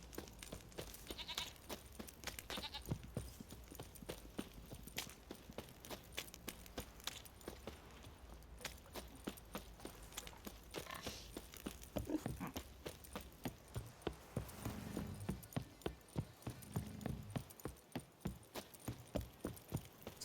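Horses clip-clop in The Witcher 3 video game, with a steady run of close, crisp hoof knocks carrying through most of the stretch alongside faint animal bleats and ambient game sound.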